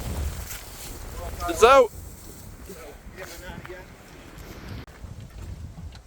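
Strong gusts sweep across a golf course on an extremely windy day, buffeting the microphone with a steady low rumble while people talk and a brief sharp exclamation cuts through.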